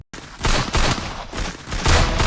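Rapid bursts of automatic gunfire from the mobile battle-royale game Free Fire, loud and continuous over about two seconds with a few brief gaps between volleys.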